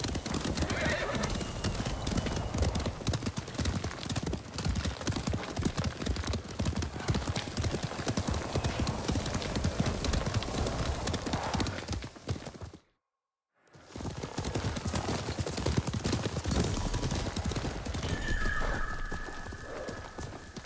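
Horses gallop in Ghost of Tsushima with dense, continuous clip-clop hoofbeats and occasional whinnies, loud and close throughout, broken by one brief second of silence partway through.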